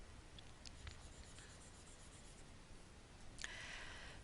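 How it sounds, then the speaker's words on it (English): Marker or eraser rubbing across a classroom whiteboard during a linear inequalities lesson, heard as faint, brief scratchy strokes with a longer, louder rubbing swipe near the end, with no talking. "Just needed to erase that so you could see it"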